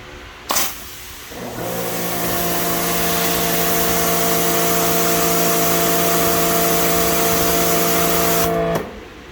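A Karcher K2000 electric pressure washer motor starts after a click and runs steadily for several seconds with a loud, droning hum and hiss, then cuts off abruptly near the end.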